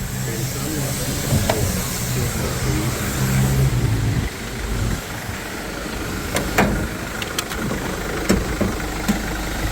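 A car engine idles with a steady low rumble and hiss, joined by a few short clicks and knocks toward the end.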